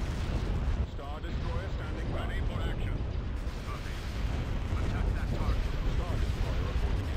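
Capital ship cannons fire continuously in the space battle game Empire at War, a dense, rumbling barrage of booms and blasts that runs throughout, with players talking over it.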